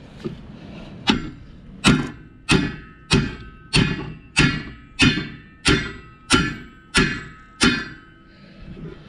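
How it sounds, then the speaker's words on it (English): A hammer strikes a jammed disk on a White 271 disk implement in about a dozen evenly spaced, loud metallic blows, each ringing briefly before the next. "We're going to have to jar it loose with a hammer."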